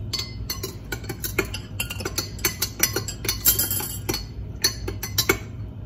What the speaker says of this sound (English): And we're just going to mix this all up.